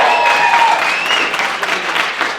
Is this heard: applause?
yes